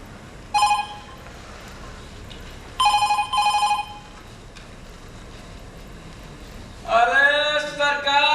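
An old-style telephone bell rings in short bright bursts, one alone and then a doubled ring a few seconds apart, loud against a quiet room, before a louder, longer electronic-sounding ring near the end.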